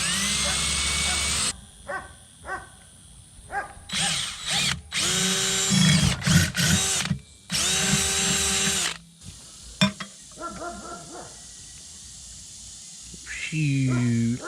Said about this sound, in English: Well, I can drill that bad boy out.